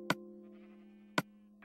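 Minecraft sheep bleat in the video game, a steady wavering baa held across the clip, with two sharp clicks marking its start and end.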